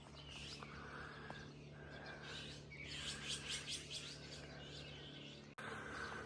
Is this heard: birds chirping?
yes